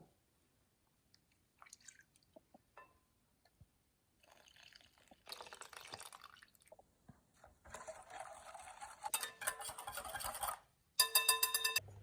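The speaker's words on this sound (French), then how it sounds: "On peut filtrer l'infusion au romarin dessus désormais." Rosemary infusion poured through a strainer into a mixed apricot clafoutis batter, an intermittent liquid trickle and drip that builds into a steady, louder pour with brief pauses, close and alone without talking.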